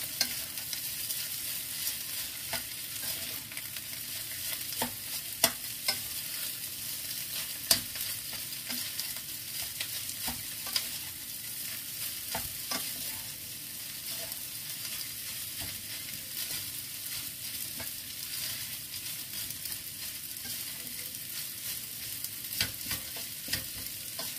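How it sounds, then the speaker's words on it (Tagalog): A spoon stirs food in a hot pot over a continuous sizzle, with scattered scraping knocks against the pot throughout and no talk. "Haluin lang natin ng ayos."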